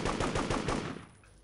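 Rapid automatic gunfire in the shooter game Devastation, a loud burst of evenly spaced shots for about a second that cuts off abruptly into quiet.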